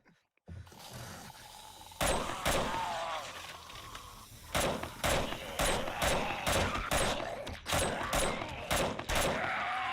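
Single-shot gunfire in the zombie survival game 7 Days to Die, about a dozen loud sharp reports at an uneven pace over a steady background of game sound.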